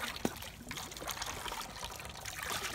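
Water from a green garden hose pours into a bucket, a steady close splashing trickle that runs throughout with no voices.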